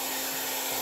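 A hair dryer blows steadily on its high setting, a loud, continuous airy roar with a constant motor whine, close and uninterrupted.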